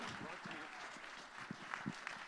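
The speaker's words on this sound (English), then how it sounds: "Let's get a round of applause for those gifts." Audience applause at a Children's Aid charity benefit, a steady, faint, distant wash of many hands clapping that carries on evenly without a break.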